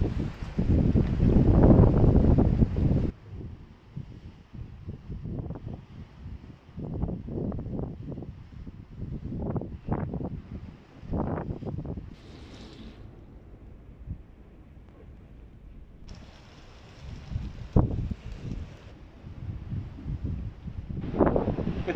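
Strong wind on seaside rocks buffets the microphone from inside a small sheltering cave in heavy rumbling gusts, loudest at the start, then gusting on and off with quieter lulls.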